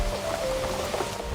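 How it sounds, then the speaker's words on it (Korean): Rain falls steadily outdoors in a damp garden area in Korea, a continuous even patter of drops at moderate level with no voices. "지금 또 갑자기 비가 와가지고 우산까지 들어야 되니까"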